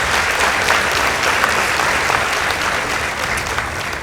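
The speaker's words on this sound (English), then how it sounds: "Let's give them a round of applause." Steady, loud applause from a debate audience for the Lugulu Girls High School debaters, a dense even wash of many hands clapping together with no break throughout.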